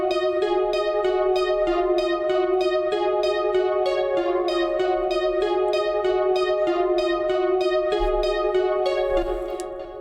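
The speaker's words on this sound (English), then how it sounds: "I think I took the exact same pluck and I just made another pattern" A bright synth pluck repeats a steady melodic pattern over a sustained tonal bed, closing with a thin low-end hit near the end. The music plays on its own, clear and upfront, with no voices.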